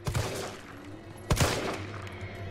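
Gunfire in the Resident Evil 3 Remake demo: a quick burst of shots opens, then a loud, sharp pair of shots lands at mid-clip over a low steady game ambience.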